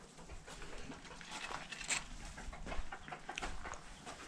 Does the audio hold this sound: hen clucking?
yes